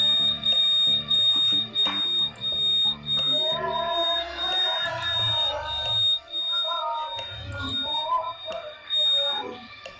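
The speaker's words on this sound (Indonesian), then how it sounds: "Kedua pelaku pada video ini gagal karena alarm motor yang berbunyi kencang." A motorcycle anti-theft alarm blares loudly and continuously, cycling through shrill warbling and beeping electronic tones that change pattern every few seconds, close and dominant with nothing else audible.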